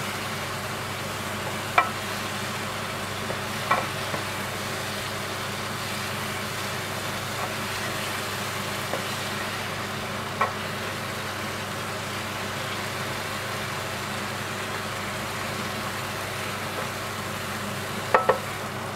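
Carrots sauté in a pan for sweet and sour meatballs, a soft continuous sizzle with occasional light clicks of stirring, no talking.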